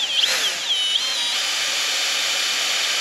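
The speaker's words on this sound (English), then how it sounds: "going to show us how we're going to drill our bumper bolt holes" A power drill whines at high pitch while drilling bumper bolt holes in a truck frame, its speed rising and dipping a few times before settling into a steady drone.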